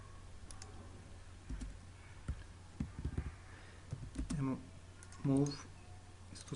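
AutoCAD commands are typed on a computer keyboard, with sparse, uneven clicks and taps spread across the clip and a short burst of voice partway through.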